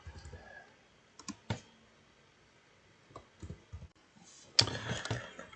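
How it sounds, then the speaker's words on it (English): Scattered clicks of a computer keyboard, close and fairly quiet, with short clusters of keystrokes separated by pauses and a louder burst of typing near the end. "So I'm going to type it in now."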